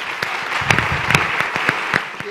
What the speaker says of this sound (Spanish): Inicien un espontáneo aplauso.